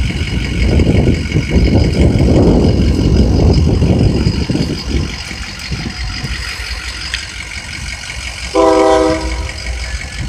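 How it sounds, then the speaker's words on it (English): A heavy CSX freight train starts to move nearby, rumbling and clanking, its locomotive engine growling, then a short horn blast sounds over the steady rolling noise. "This train about to move anyway."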